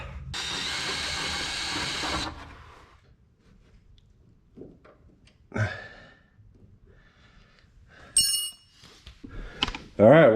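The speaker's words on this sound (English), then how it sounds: "Next step, drill." Power drill boring a hole through the front valence of a 1967 Mustang being rebuilt after a crash, a loud sustained whine for about two seconds near the start, followed by quieter shop clatter and brief bursts.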